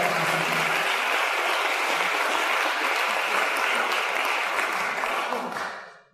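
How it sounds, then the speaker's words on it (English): A large audience at a realtors' association awards night applauds in one sustained, dense burst of many hands clapping together for about six seconds, then fades away quickly at the end. "Let's give everyone a round of applause"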